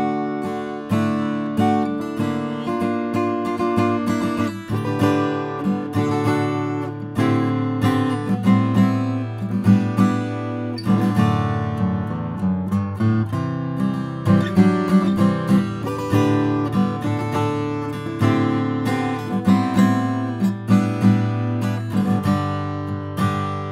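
A Martin 000-15M all-mahogany acoustic guitar plays a sustained fingerpicked passage with steady strummed chords and ringing low notes, recorded through an API 312 preamp with no processing, loud and close throughout.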